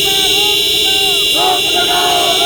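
Vehicle horns sounded continuously by farmers protesting outside the Laghu Secretariat in Hisar, a loud sustained blaring with overlapping horn tones and a shift in pitch midway, with a voice speaking over it.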